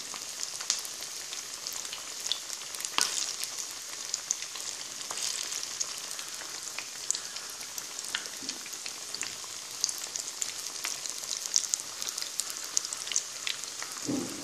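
Banana flower vadai deep-fry in hot oil, making a continuous fine crackling sizzle with scattered sharper pops, steady and fairly close, with no talking.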